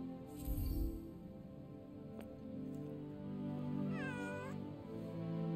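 A cat meows in the video game Forspoken, one short, rising-and-falling meow heard clearly over a steady ambient background with faint rain-like patter, no talking.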